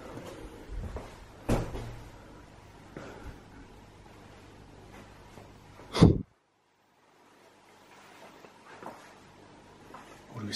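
A door in an abandoned mansion gives a single sharp knock and thud as it opens, close by, followed by near silence, with faint footsteps and rustling before and after.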